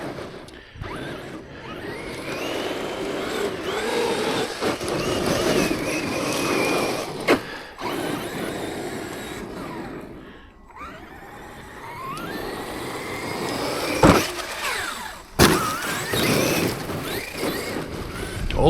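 A Traxxas X-Maxx 8S RC truck with a Tekno pinion drives over tarmac, gravel, mud and sand, its electric motor whining up and down with throttle blips, sharp landing thuds and crunching surface noise, close by, no talk.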